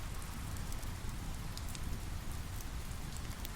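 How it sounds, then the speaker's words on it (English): Steady rain falling on a shelter at the foot of a waterfall, a dense continuous patter with a few louder drips standing out, close and unbroken throughout. "confined to my shelter by the rain"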